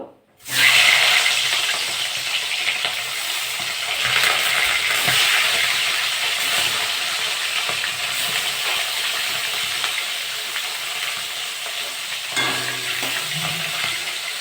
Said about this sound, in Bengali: তেলটা গরম হয়ে গেছে, মাছগুলো ভেজে নেব।